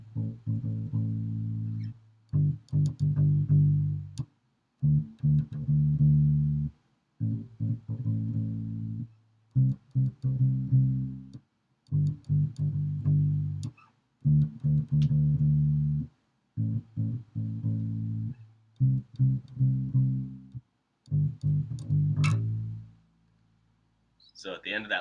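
Electric bass playing the line from a song, a repeating phrase of low notes in short evenly spaced bursts with silences between them, close and clear with no talk over it.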